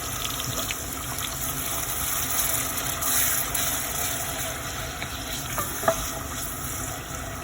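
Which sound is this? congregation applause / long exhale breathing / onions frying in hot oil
onions frying in hot oil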